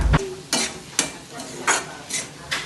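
Onion, ginger, garlic and green chili paste sizzling in a pan while being stirred, with regular scraping strokes about every half second over a continuous close fry hiss, and no talking.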